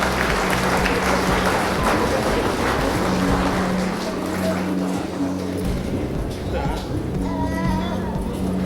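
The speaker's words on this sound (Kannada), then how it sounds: "ನಾಗರಾಜ್ ಗೌಡ ಅವರಿಗೂ ಸಹ ಚಪ್ಪಾಳೆ ಬರಬೇಕು" An audience applauds an award recipient at a forest department chief minister's medal ceremony, the clapping steady and moderately loud, with a voice speaking over it through much of the stretch.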